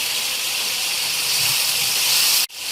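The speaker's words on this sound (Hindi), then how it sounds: "साथ ही साथ इसको भूनते वक्त ही हम इसमें मसाले भी शामिल कर देंगे" Masala sizzling in a pan while dal mash is roasted with ground red chilli and turmeric, giving a steady, close hiss that runs without a break for almost the whole stretch and then cuts off abruptly near the end.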